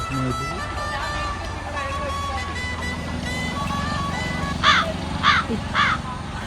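Three loud, harsh crow caws ring out near the end, following a stretch of background voices and ambient noise.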